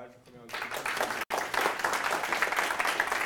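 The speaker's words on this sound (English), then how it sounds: "Could you give another round of applause to Brian for coming on stage?" Audience applause for a speaker at a blockchain talk, a steady dense wash of clapping that starts after a brief voice at the start and runs on with a short break in the middle.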